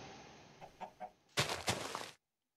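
Several short chicken clucks from a Minecraft farm animal, quiet and spaced apart, followed by a louder burst of clucking that cuts off abruptly.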